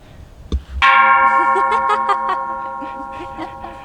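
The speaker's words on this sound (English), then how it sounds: "Do you think these are bells? They look like it." A large bell at a Thai Buddhist temple is struck once, ringing loudly with a long, slowly fading resonant tone, preceded by a couple of faint knocks.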